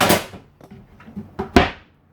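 Handleless cupboard doors in a home are pushed and opened, giving a soft thump, a few light clicks and knocks, then a sharper latch-like bang before quiet.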